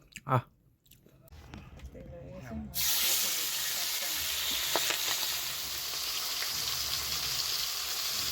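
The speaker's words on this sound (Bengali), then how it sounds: "পাবদা মাছটি ভাজা হচ্ছে।" Pabda fish frying in hot oil for a spicy pabda curry: after a brief quiet stretch with a voice, a loud, dense sizzle starts abruptly and keeps going steadily to the end.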